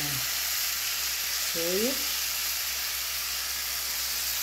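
Garlic frying in a pan for yakisoba gives a steady, close hiss and sizzle throughout, with a brief voice speaking partway through.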